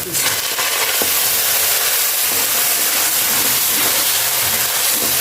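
Tomatoes added to onion and ginger-garlic paste frying in oil give a loud, steady hiss of sizzling that fills the whole stretch without letting up.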